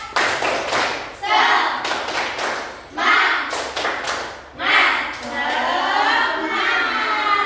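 A class performs a 'tepuk semangat' clapping chant during a primary science lesson, with loud rhythmic bursts of hand claps alternating with chanted voices, close and lively.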